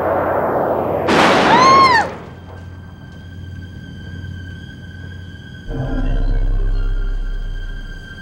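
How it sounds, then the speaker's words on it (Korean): Firecrackers set off as a prank crackle in a loud burst with a whistling, squealing streak, then fade out before a low rumbling noise swells in near the end. "폭죽을 이용한 장난 같은 깜짝쇼"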